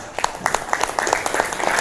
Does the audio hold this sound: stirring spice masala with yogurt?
no